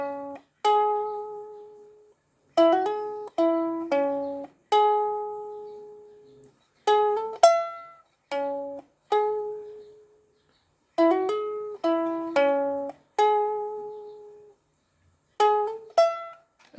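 Ukulele plays an intro alone, clear plucked chords and single notes in short phrases separated by brief pauses, close and bright with ringing decays.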